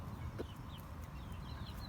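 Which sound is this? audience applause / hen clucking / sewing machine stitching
hen clucking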